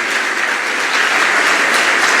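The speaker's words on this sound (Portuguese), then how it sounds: "Recebe as palmas dessa igreja" Loud, sustained applause from a large church congregation during a service, dense steady clapping filling the whole moment without voices.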